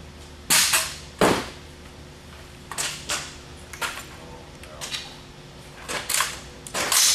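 An ATI Omni Gen2 rifle is dropped butt stock down from four feet, giving a series of sharp, close clacks and knocks spaced irregularly over a quiet background.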